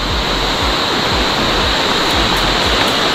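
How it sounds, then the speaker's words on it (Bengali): A small forest waterfall on the Ransi to Madmaheshwar trek rushes loudly and continuously close by, a dense, unbroken roar of falling water with no talking. "ছোট্ট ঝর্ণা, অত বড় ঝর্ণা কিছু নয়।"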